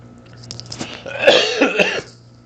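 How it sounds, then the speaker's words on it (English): A couple of short, harsh coughs from a person with a cold, close by, with a brief throat-clearing rasp, standing out against a quiet room. "excuse me, I just coughed."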